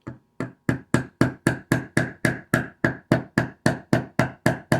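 Metal hammer strikes ring out in a steady rhythm, about three per second, driving a pin into the ignition lock cylinder of a 2006 Honda Pilot, each a sharp close tap with a brief ringing decay.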